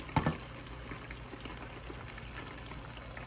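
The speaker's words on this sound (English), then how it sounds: "You pour it into your spaghetti" Hot cooked minced meat, just off the heat, is poured into a pot of spaghetti: a short wet splat at the start, then a low steady hiss and faint simmer.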